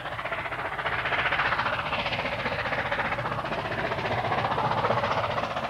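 A steam train hauling 1,200 tons of carriages along a main line gives a steady, loud, continuous roar with no voices.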